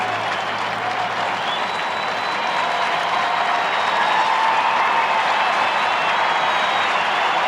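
A Seattle Mariners ballpark crowd of some 42,000 gives Harold Reynolds a standing ovation for his 800th career hit, a broad sustained roar of applause and cheering that swells slightly midway, with faint whistles above.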